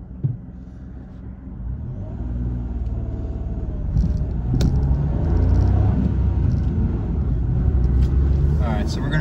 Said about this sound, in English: let's take this car out for a little twisty road and just see how fun this car really can be.